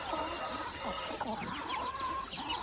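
Laying hens close to laying eggs cluck continuously at close range, with overlapping rising and falling calls from several birds over a steady farmyard background.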